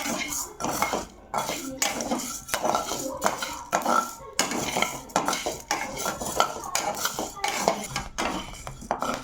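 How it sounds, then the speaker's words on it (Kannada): Wheat grains dry-roasting in a pan for allittu, a Naga Panchami festival sweet, with busy, continuous scraping and metallic clattering of a spatula against the pan as the grains are stirred and tossed, fairly close and steady throughout. "ಅಳ್ಳಿಟ್ಟಿಗೆ ಮೊದಲು ಗೋಧಿನ ಹುರ್ಕೋಬೇಕು. ಎಲ್ಲ ಗೋಧಿನೂ ಕೆಂಪಾಗೋಗೆ ಹುರ್ಕೋಬೇಕು"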